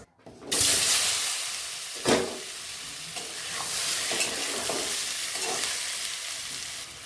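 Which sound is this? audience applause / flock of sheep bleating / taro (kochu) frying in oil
taro (kochu) frying in oil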